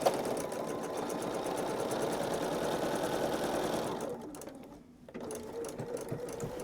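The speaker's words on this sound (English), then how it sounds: "I'm just gonna sew down the waist of these 2 pieces of fabric." A sewing machine stitches down two pieces of quilt fabric along a binding line, a fast, steady mechanical whirring close by that slows and briefly stops near the end, then resumes more softly.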